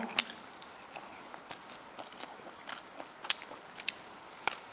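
Someone chews and eats a large roasted field rat, with close, faint crunching bites and wet chewing at an irregular rhythm and no talk.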